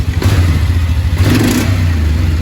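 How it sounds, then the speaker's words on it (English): A Polaris Sportsman ATV engine revs hard and loud for the whole stretch, a deep, throbbing low roar with a brief throttle blip partway through, close by with no talking. "Can you rev it? Hit the throttle."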